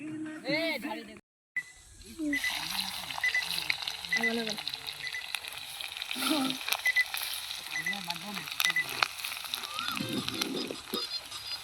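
Onions sizzling as they fry in oil in a pan, a continuous close crackle and hiss after a brief pause, with people talking over it throughout.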